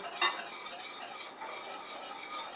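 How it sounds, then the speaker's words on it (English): A whisk stirring Parmesan into a cream sauce in a pan gives a soft, continuous swishing and scraping with a brief metallic clink at the start, close and quiet. "So keep stirring, keep whisking as she's going."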